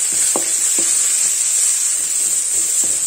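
Masala frying in a pan for a simple breakfast curry, a bright steady sizzle with several soft, rhythmic stirring scrapes about every half second, close and with no voices.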